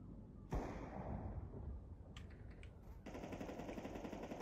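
Rapid gunfire rings out in Counter-Strike 2, starting with a sharp shot and later breaking into a dense, steady burst of automatic fire, loud and close, with no one talking over it.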